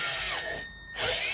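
Power drill driving stainless screws into an aluminum trolling motor mount, a close whirring burst that dips briefly mid-run then spins back up.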